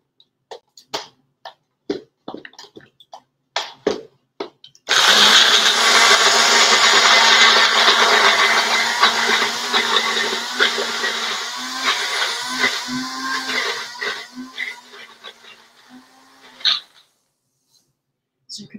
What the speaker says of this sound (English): I'm gonna put it right in my blender and stop talking.